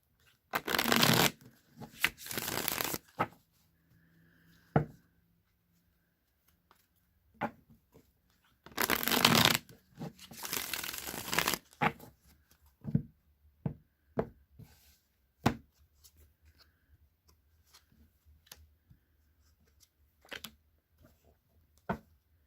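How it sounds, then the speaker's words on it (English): Deviant Moon tarot cards shuffled three times in bursts of riffling, with scattered soft taps and knocks of the deck between them, close and fairly quiet with no talking. "shuffle the deck 3 times, cut the deck, and draw"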